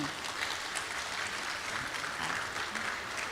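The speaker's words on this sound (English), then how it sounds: "give a big round of applause for this" Steady, dense applause from a conference audience at the close of a plenary session of the Princess Maha Chakri Award event, a continuous wash of many hands clapping with no pauses.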